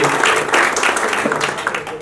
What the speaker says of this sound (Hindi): स्वामी जी का जोरदार तालियों से स्वागत करें।